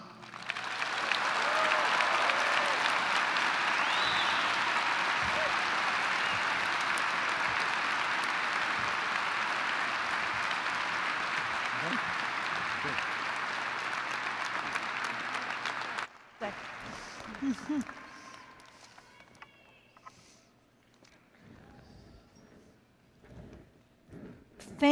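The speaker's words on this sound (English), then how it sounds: "Let's give another round of applause to the amazing Michael Finley." Sustained audience applause at a University of Wisconsin–Madison winter commencement ceremony, dense and steady for about sixteen seconds, then breaking off into scattered claps and light crowd noise.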